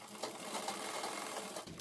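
A sewing machine runs continuously, stitching through folded buckram for a kurti collar, a steady close whirring rattle lasting under two seconds with no speech.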